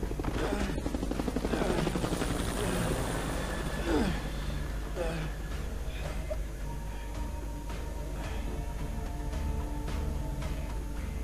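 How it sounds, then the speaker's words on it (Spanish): A helicopter in the stealth action game Splinter Cell: Conviction keeps up a steady rotor drone, with a brief burst of sharper effects early on. "Helicópteros."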